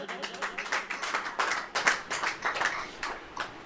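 Rhythmic clapping rises from a church congregation during a sermon, a run of fairly quick, sharp claps at moderate loudness, mostly unaccompanied by voices.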